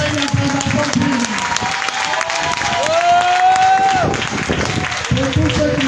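Steady applause and cheering from a church congregation fill the background as a voice speaks and calls out over it.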